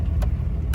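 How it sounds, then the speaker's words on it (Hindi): A Toyota HJ61 rolls along slowly, a low, steady engine rumble heard from inside the vehicle with two brief bursts of higher rattle or noise over it, and no talking. "ये हम यहाँ पे गाड़ी को हल्का सा लेके जाएंगे"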